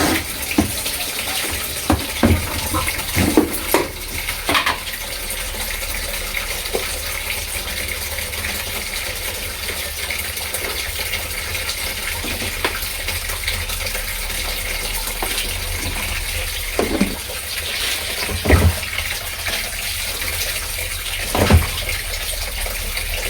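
Water runs steadily from a tap to soak a cleaning rag with Zonrox bleach, a continuous close gush with a few faint knocks and splashes along the way.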